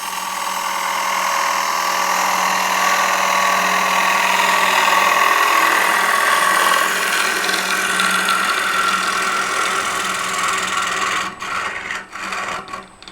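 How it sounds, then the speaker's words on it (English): A bowl gouge shears against a spinning ebony mulberry bowl on a wood lathe, a loud continuous rough rasping hiss with a steady motor hum beneath, holding for about eleven seconds before breaking into a few quick scrapes and stopping. "I can see the general location of where the bowl gouge"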